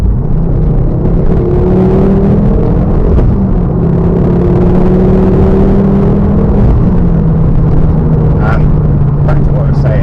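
A Ford Focus ST225 with a Stage 2 tune pulls hard in third gear, its engine drone rising steadily under a continuous loud rumble of road and cabin noise; someone talks over it.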